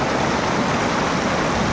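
Strong current of water rushing at a hydro site, a steady, loud broadband roar with no breaks, close by and with no voices.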